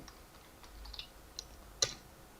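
A file name is typed on a computer keyboard, a quiet run of light, uneven key taps with one sharper click near the end, close and faint, with no talking.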